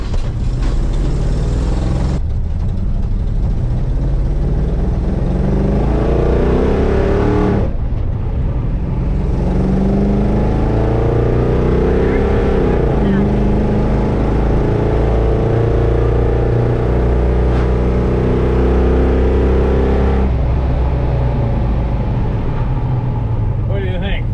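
Car engine with a Holley Sniper EFI fuel injection system revving loudly and steadily, with pitch rising and falling over a continuous engine roar close by.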